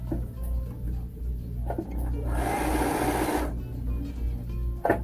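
A home sewing machine runs a short burst of decorative star stitches during a free-motion quilting class, a loud whirring run of about a second over a steady low motor hum.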